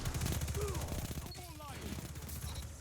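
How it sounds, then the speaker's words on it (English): Rapid bursts of SMG fire in a shooter video game rattle loudly and close, shot after shot in quick succession, with faint voices in the background. "Take him out with some good SMG shots."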